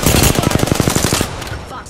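Gunfire in Apex Legends, a fast rapid-fire burst of evenly spaced close, loud shots that stops abruptly and gives way to quieter game noise.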